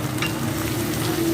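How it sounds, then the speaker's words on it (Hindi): Green onions and green chillies sizzle steadily in a hot pan during a light sauté for restaurant-style chilli chicken, a close, continuous frying hiss with no talking. "बस हल्का सा ऐसे सौते करना है"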